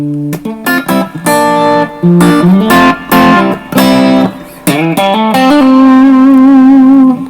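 Electric guitar through a Vestax overdrive pedal with the guitar volume lowered, a mild crunch on a quick run of picked notes and chords ending on a long ringing sustained note, played alone.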